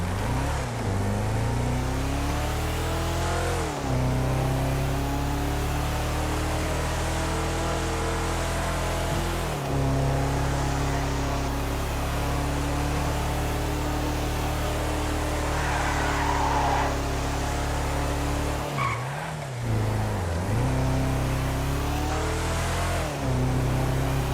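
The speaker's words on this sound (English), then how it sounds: "Let's test drive this thing out. It's a 4-door car, off-road" A four-door off-road car in a video game runs on a test drive, its engine droning loudly and steadily, with a few sharp revs and gear shifts breaking the steady note.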